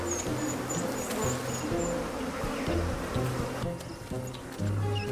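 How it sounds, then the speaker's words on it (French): African bees buzz steadily and close, a dense continuous insect hum with faint higher whines drifting across it, no talk. "Les abeilles africaines piquent 10 fois plus fréquemment que leurs cousines européennes"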